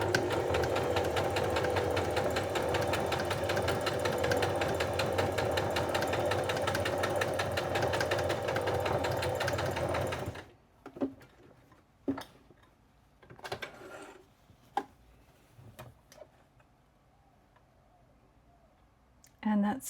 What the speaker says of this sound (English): that's straight sewing around a curve